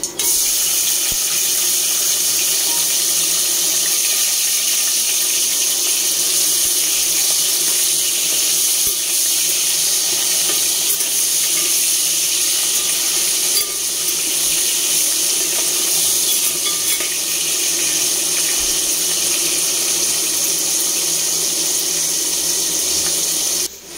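Chopped mango, tomato and karamcha fry in hot oil with popped mustard seeds in a pan, giving a loud, steady, unbroken sizzle that hisses evenly for the whole stretch.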